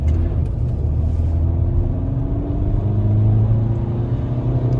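A car accelerates during a driving test, its engine rumbling loud and close from inside the cabin with a rising tone as it gains speed, and no one speaks.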